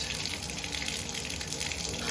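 Cold water gushing steadily from a bathtub tap at low pressure, a close, continuous splashing rush with no talk over it.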